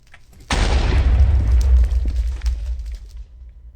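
In Minecraft's End world, end crystals go off in one loud, sudden explosion that roars and rumbles for a couple of seconds and then fades into crackling debris.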